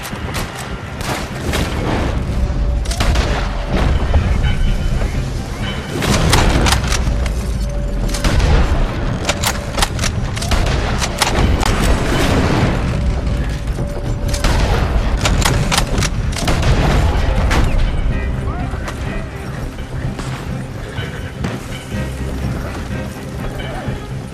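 Sustained gunfire and booming shots during a shootout in Red Dead Redemption 2, loud and dense across the whole stretch, with bursts of shots, crashes and a voice talking over the fighting.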